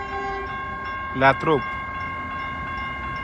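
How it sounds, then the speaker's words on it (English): A red and white Caltrain bound for San Jose Diridon rumbles steadily at a station under a constant tonal hum, while a short spoken word cuts in briefly partway through. "Cal train to San Jose Diridon is coming"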